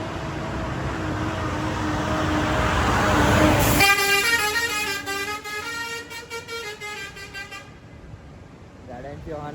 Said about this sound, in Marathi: गाड्यांची हॉर्न बघा तुम्ही कशा प्रकारे वाजवतात.